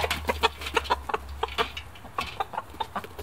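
Chickens cluck in quick, repeated bursts close by, a busy irregular patter of short calls over a low steady hum.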